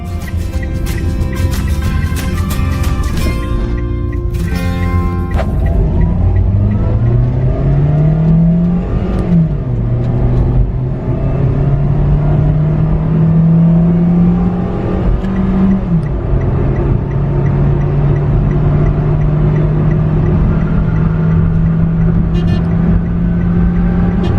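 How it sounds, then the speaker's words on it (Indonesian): A Toyota car with a 1200cc 3NR engine cruises on a toll road, its steady engine drone rising in pitch as it accelerates through the gears, loud and continuous from inside the cabin with no talking. "Sekarang kita udah masuk tol, dan mobil ini punya mesin 3NR 1200cc bertenaga 88 horsepower."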